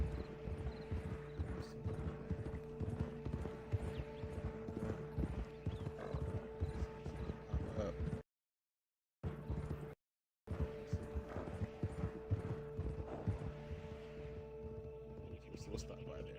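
Steady horse hooves clip-clopping in Red Dead Online, a continuous rhythmic trot at moderate volume with a brief whinny, a faint tonal hum beneath, and two short dropouts midway.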